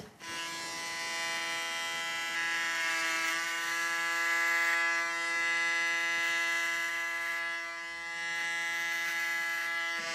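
Electric hair clippers give a final haircut before firefighter training in Paris, a steady close buzzing whine with strong harmonic drone, continuous for about ten seconds with slight swells in loudness and no talk.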